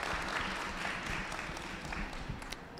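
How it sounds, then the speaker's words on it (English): Audience applause at a marine conservation art talk, a steady wash of clapping at moderate distance, fairly quiet and unbroken for a few seconds with no voices over it. "So please give a warm round of applause before they share."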